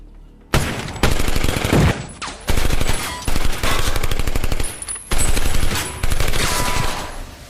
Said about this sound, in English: Wesley tries to warn him to watch where he's shooting